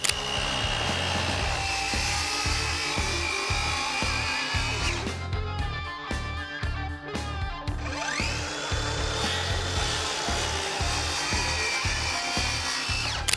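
A power saw cutting through 2x8 wooden boards for an outdoor bench, a loud continuous motor whine and rasping bite through the wood, briefly dropping and spinning back up midway, close and with no talk.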